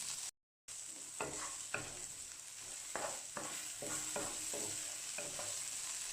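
Spices fry in a little oil with a constant soft hiss, and a spatula scrapes and stirs at irregular moments. The sound is close but fairly quiet and stops for a moment near the start.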